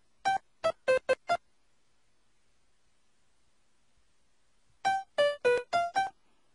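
A synth in the Beat Maker 2 app plays short clipped notes with the release set below 50%, two quick bursts of five plucky tones each cut off abruptly, separated by several seconds of silence.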